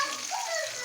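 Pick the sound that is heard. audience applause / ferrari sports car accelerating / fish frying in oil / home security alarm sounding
fish frying in oil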